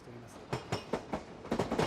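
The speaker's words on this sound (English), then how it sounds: "using electric trains that scurry about the countryside without polluting the atmosphere" An electric commuter train in Japan rolls along the tracks, its wheels giving a quick series of rhythmic clacks over rail joints at moderate distance, about five beats in under two seconds.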